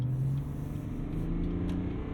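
Steady, fairly loud engine drone from a 2022 GMC Sierra 1500 AT4 with the 3-liter turbo diesel inline six, holding an even low hum while driving.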